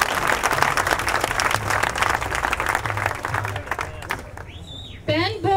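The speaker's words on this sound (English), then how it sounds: "Let's give her a round of applause." Audience applause at an Occupy Santa Rosa gathering, a dense crowd of clapping that runs steadily for several seconds, then fades as a voice speaks over a sound system.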